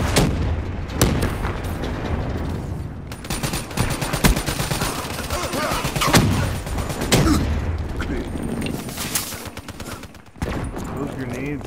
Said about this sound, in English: Those grenades got me.